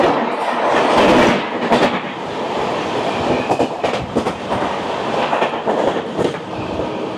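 Inside the Amrit Bharat Express (train 12804, Malda to Bangalore) rolling along the track, a continuous close rumble carries rhythmic clickety-clack wheel beats and occasional louder knocks, with no one speaking.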